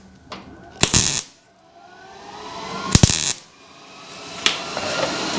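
Tack welding scrap sheet metal onto a Chevrolet Biscayne body panel: three sharp crackling bursts of arc welding, each short and loud, separated by quieter stretches of low shop hum.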